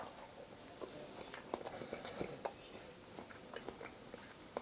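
Mushroom fried rice being eaten, with soft biting and chewing crunches close to the mic, quiet and irregular, no talking.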